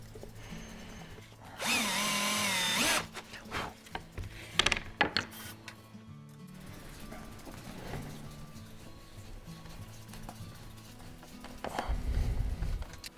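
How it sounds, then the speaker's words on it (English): Power drill briefly driving a temporary screw into a wooden bulkhead frame during a boat build, one loud whirring burst followed by quieter clicks and handling noises, with a second short drill burst near the end. "So we're going to screw the bulkhead to the frame, and these will just be temporary screws that will come back out"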